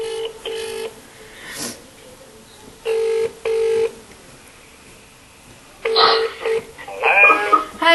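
Phone placed on speakerphone, with repeated paired tones followed by the call ringing out, bursts alternating with short silences, close and clear, ending in another ring and faint voice.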